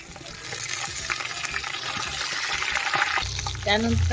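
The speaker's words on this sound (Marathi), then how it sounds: "टमाटे टाकत है व्यवस्थित आपण परतून घ्यायचं आहे" Tomatoes, garlic paste and chillies being sautéed in a pan over a wood-fired stove, a steady wet frying hiss with stirring scrapes throughout, a louder burst near the end as more is added, with a voice faintly beneath.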